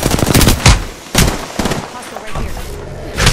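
Rapid automatic gunfire in the Apex Legends battle royale game, loud bursts of shots in quick strings with pauses between, under a busy game soundscape.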